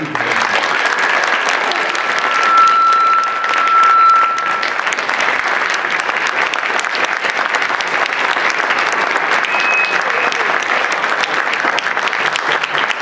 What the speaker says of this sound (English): And then if we can give me a round of applause.